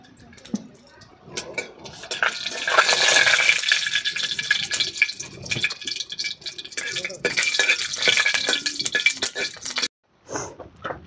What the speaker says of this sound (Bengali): তেলটা গরম হয়ে গেছে বন্ধুরা, এই যে জিরে দিয়ে দিলাম, গোটা জিরে,